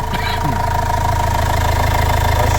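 The 2.5 engine of a Renault Master van runs at a steady idle nearby during a cooling system flush, a continuous rumbling hum with a faint whirring tone on top and no talk.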